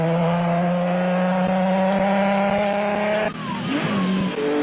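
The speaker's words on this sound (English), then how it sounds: "there was no stopping for De Villiers and Francois Jordan in the Nissan hardbody" Nissan Hardbody off-road race truck at the 2002 Sugarbelt 400 in South Africa, a loud steady engine drone with harmonic whine throughout, shifting pitch briefly near the end as it passes or changes gear.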